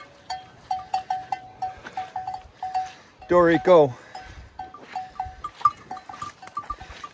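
Heifers moving in a field, with repeated short animal calls and cowbell-like clanks, a louder rising call in the middle, and a voice speaking briefly.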